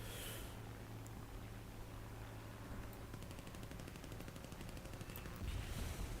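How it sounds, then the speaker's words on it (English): Explosive rounds fire from a tank in a mobile tank video game, a dense run of rapid shots crackling over a steady low engine rumble, fairly even in loudness with a heavier burst near the end. "these bullets are extra explosive"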